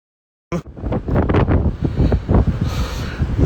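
Stormy sea wind at Karulya starts abruptly after a moment of silence, then blasts loud and steady with rumbling gusts battering the microphone.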